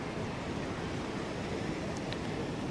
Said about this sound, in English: What a beautiful sight here at Spittal Beach.